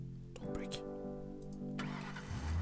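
Small French cars drive over a bridge in the Bridge Constructor video game, their engines humming and revving through a short burst while a person talks over them.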